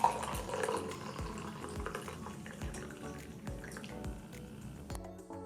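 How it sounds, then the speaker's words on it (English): French press coffee trickles and drips into a cup in a quiet home kitchen, a soft, uneven liquid patter that tapers off near the end. "Then all it's left to do is pour yourself a delicious cup of coffee."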